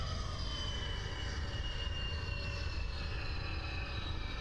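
A Messerschmitt ME262 jet engine in a flight video game being throttled down for landing, a steady loud jet roar with a high whine, holding level throughout.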